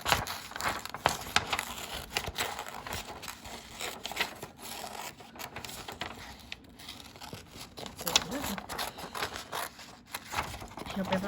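Scissors cut out a piece of dried coffee filter paper in a series of soft, irregular snips and crinkles, close by and faint, with occasional quiet talk.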